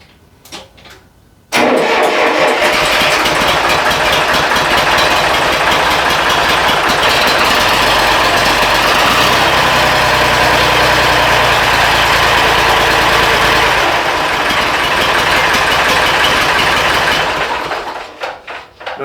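An old tractor engine cranks briefly and catches, then settles into a loud, steady, close idle with a low rhythmic chug for over fifteen seconds before cutting off.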